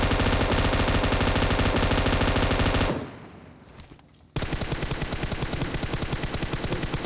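Dense automatic gunfire in PUBG Mobile rattles loud and close in rapid bursts, breaks off for about a second and a half, then resumes just as hard, with no voices over it.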